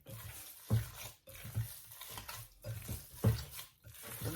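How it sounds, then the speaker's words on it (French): Minced meat for a meat loaf being mixed by hand with its ingredients, including unsalted green olives: a few soft, wet squelching pushes in an uneven rhythm, close up, with no talking. "Bien mélanger la viande et tous les ingrédients."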